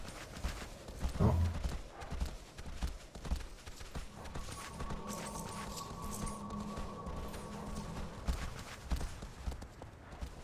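A horse gallops in the game Shadow of the Colossus, with rapid rhythmic hoofbeats over wind and rumble, a heavy thud early on and a sustained droning tone midway.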